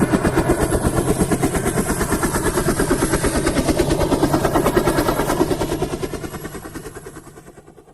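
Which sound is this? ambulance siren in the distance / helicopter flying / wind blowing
helicopter flying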